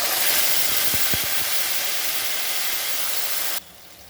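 Tomato paste hits hot oil seasoned with panch phoron and salt in a pan for a thin rohu fish curry, giving a loud, steady, hissing sizzle that cuts off abruptly near the end.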